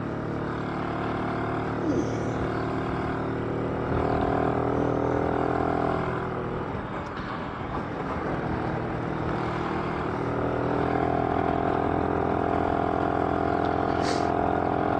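A BSA D7 Bantam motorcycle engine running during a ride, a continuous droning two-stroke note with some wind rumble that dips briefly midway then holds steady to the end.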